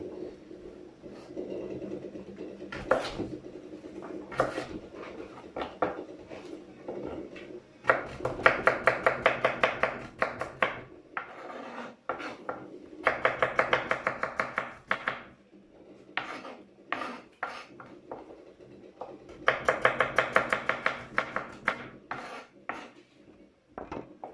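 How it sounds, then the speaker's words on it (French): A kitchen knife chops carrots into fine brunoise on a board, in bursts of rapid, close, sharp taps separated by quieter pauses and scraping. "une partie de carottes, je coupe en brunoise et l'autre, je vais râper."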